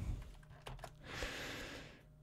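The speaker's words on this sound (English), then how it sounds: "I'm going to use the keyboard shortcut." A few separate keystrokes on a computer keyboard, close and moderately loud, followed by a brief hiss of background noise, with no talking.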